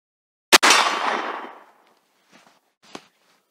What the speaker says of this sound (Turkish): Gördüğünüz çelik sesini duyuyorsunuzdur.